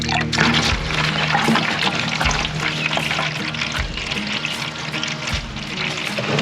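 Water spraying and gushing from a hole in a pipe at a cabin, a loud continuous hiss and splatter close up with irregular splashy pulses and no talking.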